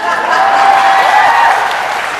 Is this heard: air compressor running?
no